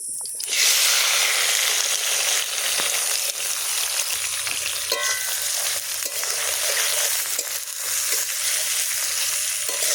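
Onion, tomato and green chili frying in a hot pan, a loud, steady sizzle and hiss that starts abruptly as they drop in and continues throughout, with faint stirring scrapes.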